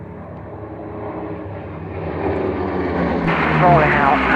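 Engine of a small, slim German aircraft rolling out at the Duxford air show, a steady building drone that grows louder and brighter as it nears, with a voice talking over it.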